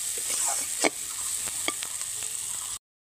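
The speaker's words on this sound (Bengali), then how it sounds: "ভেজে নেব" Chopped green chilli, garlic and onion with five-spice seeds sizzle in hot oil, a steady bright crackle broken by several scraping stirs of a spoon in the pan, before the sound stops suddenly.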